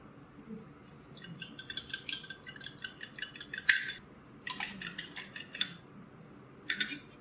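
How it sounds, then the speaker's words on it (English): Eggs are whisked in a bowl in quick bursts of rapid clicking and tapping against the bowl, separated by short pauses, close and with no speech. "when you whisk your eggs you want to whisk them completely so that there's no streaks of white or yolk"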